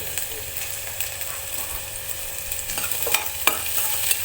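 Ingredients are fried until reddish and stirred in a pan for a sour pulse curry, giving a steady hiss of sizzling with scraping stirs that grow sharper toward the end, close and fairly quiet.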